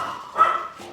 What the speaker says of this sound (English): This is my little Pomeranian.